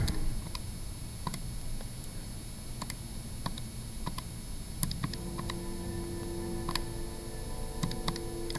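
Sparse, irregular plastic key clicks tapped one at a time on a calculator, quiet and close, with faint steady background hum and no talking.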